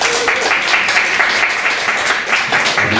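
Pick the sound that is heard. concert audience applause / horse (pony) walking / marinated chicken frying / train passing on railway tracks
concert audience applause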